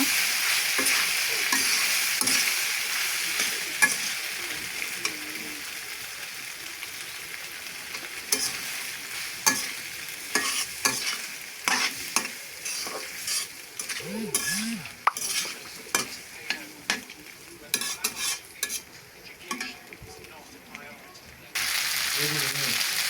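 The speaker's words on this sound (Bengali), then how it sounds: "এবার আমি সিদ্ধ করা নুডলসগুলো ঢেলে দেব এবার ভালোভাবে নেড়ে চেড়ে মিশিয়ে নেব" Boiled noodles are tossed and stirred in a hot pan, making a steady sizzle with scraping and clinking of a utensil against the pan. Intermittent knocks punctuate the close, continuous frying sound.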